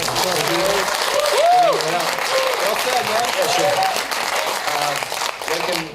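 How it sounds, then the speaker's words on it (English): Audience applause after a talk on blockchain for social impact, a sustained broadband patter of many hands with a voice speaking over it throughout. "A round of applause, please"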